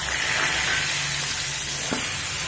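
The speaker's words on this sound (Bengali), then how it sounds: "এই চিংড়ি মাছটা ভেজে নেব" Prawns coated in salt and turmeric sizzle steadily in hot oil, a loud, even frying hiss close by with a faint stir near the end and no talk.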